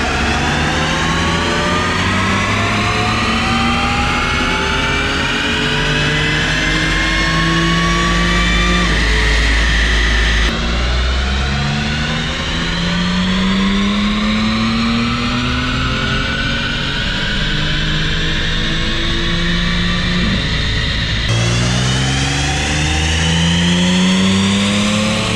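Audi B8 S4 with an Integrated Engineering air intake revving on a dyno, three long steady pulls climbing in pitch, each cutting off and restarting, loud and continuous with no talk.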